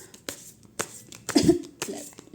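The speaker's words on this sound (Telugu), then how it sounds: "సారీ మధ్యలో కాఫ్ వస్తుంది డిస్టర్బెన్స్ ఉంది" A person coughs several times in short, sharp bursts close to the microphone, with brief pauses between the coughs.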